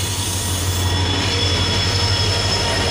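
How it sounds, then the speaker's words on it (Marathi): A train pulls into a station platform with a loud, continuous rumble of rolling wagons and a sustained wheel squeal, heard close and steady throughout. "तर काय आता ट्रेन आलेली आहे"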